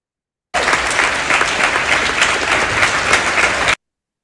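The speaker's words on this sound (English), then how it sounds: "let us express our appreciation with a big round of virtual applause" An audience gives a keynote speaker a round of applause at an online faculty development program: a dense, even wash of clapping holds for about three seconds, then stops abruptly, with no talking.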